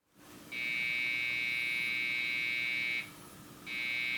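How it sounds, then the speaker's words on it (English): Desktop PC beeping error codes at power-on from a suspected RAM fault, two long, steady, high-pitched buzzing beeps with a short gap between them, close and alone over faint background noise. "It's making those beep sounds. That sounds to me like a RAM problem."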